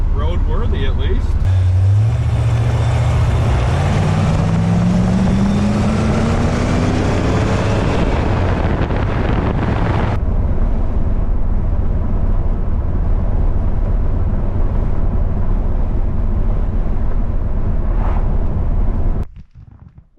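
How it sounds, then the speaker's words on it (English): Barn find Corvette on its first test drive in decades roars loudly as the engine revs up in a rising pull, then settles into a steady driving rumble with wind noise before cutting off near the end. "We took the Corvette out for the first test drive in 25 to 30 years."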